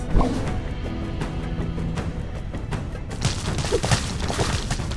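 Dense rumbling crashes and booms overlap in a chaotic, continuous barrage, with a few sharper impacts standing out near the end.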